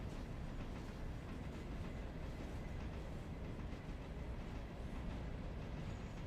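A passenger train runs on rails, a continuous low rumble with faint rhythmic clickety-clack of wheels, steady and moderately distant, with no talk.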